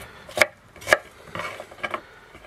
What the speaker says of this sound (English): And we chop them rustically, like you'd get in a proper Chinese